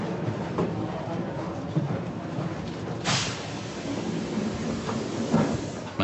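Inside a passenger train travelling across Flanders and the Netherlands, a steady low rumble of the carriage continues throughout, with a brief louder rush midway and occasional faint knocks.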